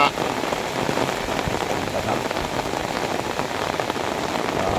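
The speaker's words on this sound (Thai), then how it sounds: "ตอนนี้ฝนก็ตกอยู ่28 นาทีนะครับ" Heavy rain pouring down and drumming on surfaces, with trees nearby: a dense, steady hiss of drops, loud and close, unbroken throughout.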